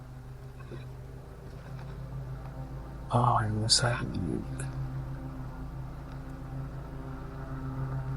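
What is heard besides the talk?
neighbour's riding lawn mower engine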